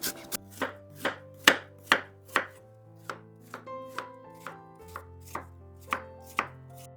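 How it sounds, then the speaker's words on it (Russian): A knife chops through apples into medium pieces on a cutting board for apple pie, in steady, evenly spaced strikes, about fourteen in all, with soft music underneath. "Режу яблоки средними кусочками."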